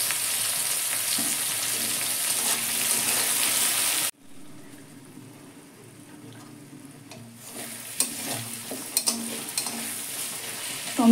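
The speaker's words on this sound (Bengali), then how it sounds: "টমেটোটা আমার ভাজা হয়ে গেছে।" Tomato with salt stir-fried in a pan sizzles loudly, then quiets after a sudden break before stirring picks up again with scraping and a few utensil clacks, with no voices.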